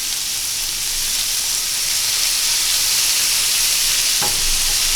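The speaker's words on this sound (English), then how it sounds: "Now that we got that other side searing" Walleye and crappie fillets sear in a hot pan, giving a loud, steady close-up sizzle and hiss that runs unbroken throughout, with a faint clink near the end.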